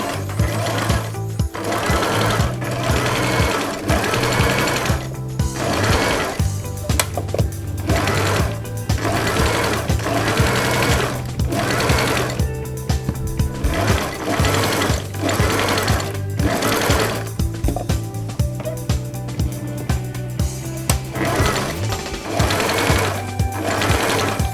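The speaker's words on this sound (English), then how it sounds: "So I will take this to my sewing machine." A sewing machine stitches through a suit jacket's chest canvas and interfacing in loud rapid bursts, its motor rattling in repeated runs separated by short pauses.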